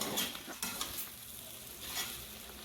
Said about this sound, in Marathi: तिथंच थांबून परतून घ्यायची, म्हणजे ते खाली पण चिकटत नाही आणि सगळी एकसारखी मोकळी होते.